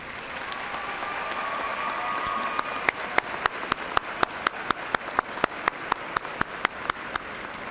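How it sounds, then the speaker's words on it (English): Commencement audience at an Eastern Kentucky University spring ceremony gives a round of applause, a diffuse crowd clapping that thins into a few loud, evenly spaced claps close by. "join me in showing your appreciation for these very important people in your lives with a generous round of applause."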